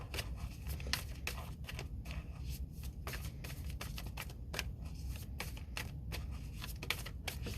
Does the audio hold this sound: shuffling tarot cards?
yes